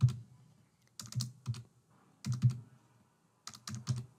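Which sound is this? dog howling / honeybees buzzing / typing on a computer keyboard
typing on a computer keyboard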